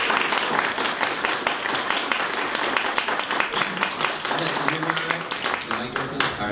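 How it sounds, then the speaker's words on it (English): Steady applause from an audience, many hands clapping in a dense, continuous wash that carries on throughout, with a few voices rising near the end. "let's give him a round of applause"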